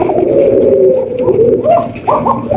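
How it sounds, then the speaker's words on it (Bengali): A Belgian bloodline racing pigeon coos close by, a series of soft, rolling throaty calls rising and falling over a low murmuring background. "হচ্ছে একজন হাই কোয়ালিটির রেসার কবুতর"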